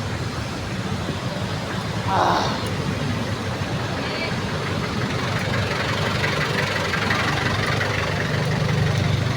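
Steady low engine rumble of idling vehicles, including cars, in heavy road traffic heard from a rider's position, continuous and fairly loud with a brief louder swell and some background voices.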